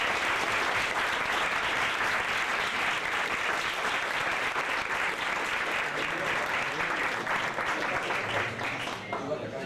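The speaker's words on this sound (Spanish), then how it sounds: "No sin antes darles un aplauso a los 4 representantes juveniles." An audience gives sustained, dense applause for four youth representatives at a debate. It stays loud and continuous for about ten seconds before beginning to fade.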